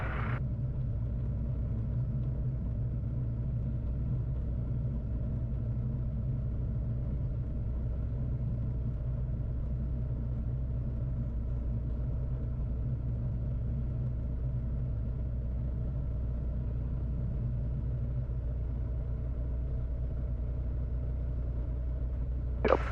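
A gyrocopter engine runs steadily at night, a loud continuous low droning rumble holding an even pitch throughout, close and unbroken, with a brief sharp sound at the very end.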